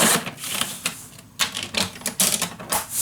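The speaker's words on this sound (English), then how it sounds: "Going to cut this shorter." Paper is cut shorter for a handmade mini album, giving a quick series of crisp, close clicks and slicing strokes in an uneven rhythm.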